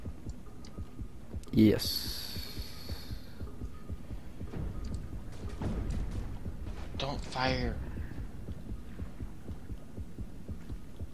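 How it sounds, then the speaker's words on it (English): Steady throbbing heartbeat effect from the underwater shark game Depth pulses low under game noises, clicks and excited players talking over it. "Why is my heartbeat going up?"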